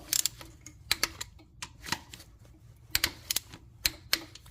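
Sharp, irregular metallic clicks from a torque wrench snugging a 13mm bolt to spec on a GMC Acadia/Traverse oil pump job, several close ratchet ticks in quick clusters, with no talking.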